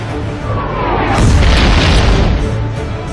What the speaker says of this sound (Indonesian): HRMS Everston mulai menembakkan meriam 120 mm secara terarah ke arah RI Macan Tutul